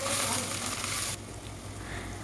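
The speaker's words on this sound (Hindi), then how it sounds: "1 टेबल स्पून साबित ज़ीरा है जो इस तरीके से मैं फ्राई" Whole cumin seeds frying in hot oil in a pan, a steady close sizzle that is loud at first and then drops to a quieter, continuous crackle.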